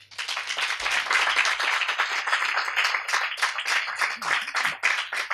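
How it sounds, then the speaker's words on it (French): An audience gives filmmaker Pierre Coffin a dense, loud, sustained round of applause at a talk, with steady clapping and a few faint voices underneath. "on peut l'applaudir"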